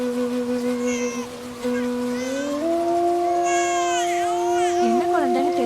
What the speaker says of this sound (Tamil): குழந்தை அழுகுற சத்தம் கேக்குது.